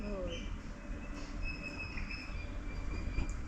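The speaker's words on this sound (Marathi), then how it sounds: "परत ट्रेनचा आवाज आला" A train passes nearby with a continuous low rumble of wheels on rails, and thin metallic squeals ring out above it throughout.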